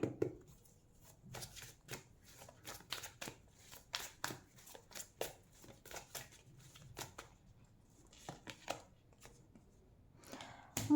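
Tarot cards being shuffled and drawn by hand, a close run of quick papery riffles and soft slaps coming in irregular bursts, fairly quiet and without talk.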